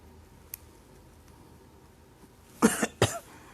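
A man coughs twice in quick succession, close and sharp, after a few seconds of near silence with only a faint tap.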